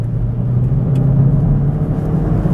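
Steady, loud engine drone from a 2018 Hyundai Elantra GT with paddle shifters, heard from inside the car as it revs toward 5,000 RPM, a continuous low rumble with no talk.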